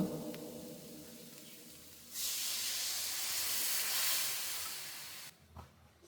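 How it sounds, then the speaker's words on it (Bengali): Water poured into a hot pan of fried potatoes and spices bursts into a loud, steady hiss of steam and spitting that holds for about three seconds, then cuts off sharply into quieter kitchen sounds. "আলু সিদ্ধ করার জন্য যতটা পানি প্রয়োজন ছিল আমি ঠিক ততটাই পানি অ্যাড করেছি।"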